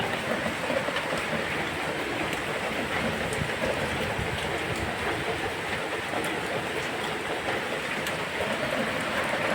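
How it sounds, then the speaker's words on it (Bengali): Heavy rain pours down in a steady, dense hiss, loud and continuous throughout with no pauses. "জল পড়ছে রে, বৃষ্টির জল"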